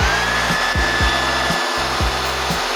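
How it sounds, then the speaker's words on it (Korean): Loud, steady hair dryer roar blowing hot air into a sealed plastic bag holding wet shoes, with a rhythmic low flapping and rustling as the bag billows, close up. "최대한 밀폐되게 비닐을 해주시고 헤어드라이기를 키면"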